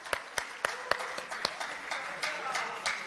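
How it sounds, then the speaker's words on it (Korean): Politicians at a People Power Party retreat applaud: sharp, evenly spaced claps at first, then a denser, softer patter of applause, with speech mixed in. "박수 부탁드립니다."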